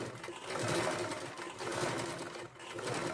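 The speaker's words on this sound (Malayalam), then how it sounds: "ഇനി നമുക്ക് ഇതിൻ്റെ മുകളിലൂടെ ഒരു സ്റ്റിച്ച് കൊടുക്കാം" A sewing machine runs steadily, stitching a topstitch through garment fabric with a lining piece tucked inside, near a neckline. The motor whirs close and continuously for the whole stretch, with only a brief dip near the end.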